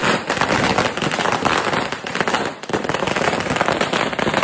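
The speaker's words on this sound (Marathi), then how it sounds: "याला फटाके वाजवायची लय हौस होती" Firecrackers bursting in rapid, dense crackling volleys, loud and close, with a brief dip near the middle before the popping picks up again.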